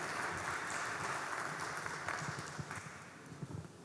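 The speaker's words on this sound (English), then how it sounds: "Give him a round of applause." An audience applauds a speaker at a packaging and labels technology event, a moderate, fairly distant patter of claps that thins out toward the end.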